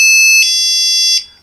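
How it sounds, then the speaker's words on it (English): A Radio Shack motion detector alarm sounds up close, a loud, shrill electronic tone that shifts pitch partway through and then cuts off, with no other sound. "This is a Radio Shack motion detector alarm."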